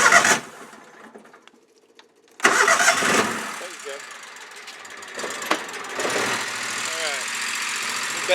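A Polaris Ranger UTV engine is started with its starter button after a fuel problem repair, a loud burst of cranking that catches and settles into a steady idle with revs, voices talking nearby.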